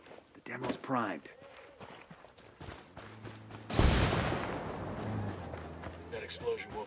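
An explosion in the video game Ghost Recon Wildlands bursts suddenly midway and fades into a rumbling decay, after faint footsteps and quiet game voices, with light gunfire-like crackle trailing afterward.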